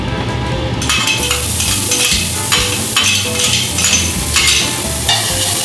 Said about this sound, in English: We can go ahead and cook the shallots.